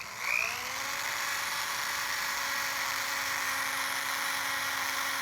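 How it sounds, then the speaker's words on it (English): A drill-mounted sanding disc spinning against a lathe-turned wooden bowl that rotates the opposite way: a steady high electric whine with a brief rise at the start, continuous and close. "That's a disc mounted in a drill where the rotation is opposite the bowl."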